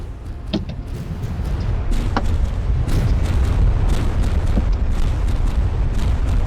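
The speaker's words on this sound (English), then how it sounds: "I use missiles to create big explosions for one time" Missile explosions in the naval combat game From the Depths boom in a dense, continuous rumble with sharp cracks at intervals, loud and close throughout.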